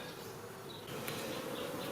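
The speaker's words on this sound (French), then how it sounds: "il y a des abeilles ici et là" Honey bees at an apiary hive in France, with a dense continuous buzz of many bees close by that swells slightly louder partway through, and no voices.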